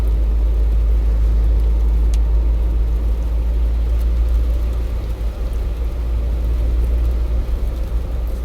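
A manual-transmission car's engine runs while driving, heard from inside the cabin as a loud, steady low rumble and drone that continues unbroken throughout.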